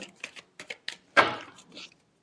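Tarot cards shuffled by hand in a quick series of soft, papery ticks, then one longer riffling burst, close and fairly quiet, with no voice.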